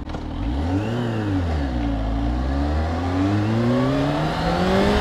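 Kawasaki ZH2 motorcycle engine accelerating hard, its pitch sweeping upward through the gears with a brief dip and rise, loud and close and continuous throughout.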